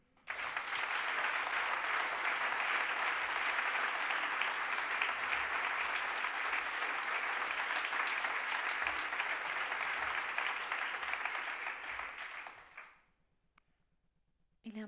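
Café concert audience applauding the bass player and singer, a sustained, even burst of many hands clapping at moderate volume that lasts about twelve seconds, then fades abruptly into near silence.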